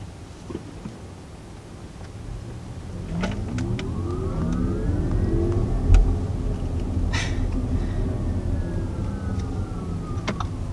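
A futuristic synthesized hum from a 2019 Audi e-tron electric car's pedestrian warning system, rising and falling in pitch as it sweeps steadily over a low rumble, with a few faint clicks mixed in.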